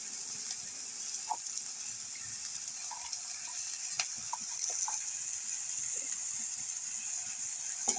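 Faint sizzling of fried onion and tomato in a pan with salt, chili powder and turmeric, broken by scattered soft clinks and scrapes of a stirring spoon over a steady background hiss.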